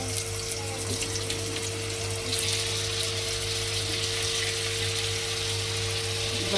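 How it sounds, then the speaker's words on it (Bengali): Fish frying in hot oil in a wok (kadai) gives a steady, close, dense sizzling hiss that runs unbroken throughout, with no talking. "কড়াই গরম হয়েছে, এখন পরিমাণ মতো তেল দিয়ে মাছটা ভেজে নেব।"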